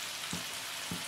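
Onions fry in a pan with a steady, quiet sizzling hiss, broken by two brief soft knocks about half a second apart.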